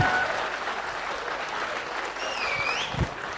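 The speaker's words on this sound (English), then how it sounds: "clap for him" Steady applause from a conference session audience, even and sustained, with faint voices and a brief whistle-like tone partway through.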